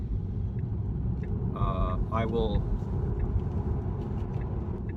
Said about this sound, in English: It basically comes to a stop with regenerative braking.